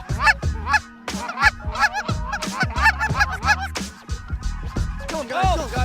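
A flock of geese honks loudly and close at hand while being called in over a decoy spread on an Alberta goose hunt, with rapid overlapping calls in uneven bursts.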